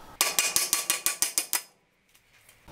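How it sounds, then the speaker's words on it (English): A copper hammer taps an old bearing off a Nissan YD25 Navara vacuum pump shaft held in a vise: eight sharp, evenly spaced metallic strikes ring out, then stop, leaving near silence with a few faint clinks. "You'll need to put it in the vise and then using a copper hammer,"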